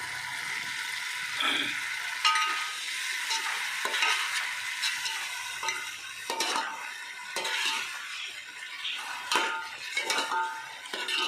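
Masala sizzles and fries in a pan while a spoon stirs it, scraping and clinking against the metal in steady, close strokes, with no talking over the cooking.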